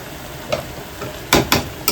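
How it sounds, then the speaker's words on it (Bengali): Shrimp curry with green chilies, spice paste and water frying in a pan gives a soft, low sizzle broken by a few short stirring scrapes toward the end. "এই মশলা পানি সব কিছু একসাথে জাস্ট ভাজা ভাজা হবে।"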